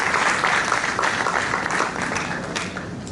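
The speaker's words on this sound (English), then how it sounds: "can we give a round of applause to the leadership of NIOB" A conference audience at the Lagos Builders' Conference claps for the NIOB leadership, a dense, steady round of applause filling the room for a few seconds.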